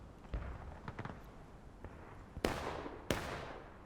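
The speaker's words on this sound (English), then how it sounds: "That was a CSA cannon all the way from Brockenborough." Distant cannon fire from a multiplayer Civil War battle game: a few faint thuds, then two sharp, loud booms that ring out and decay, with no voices over them.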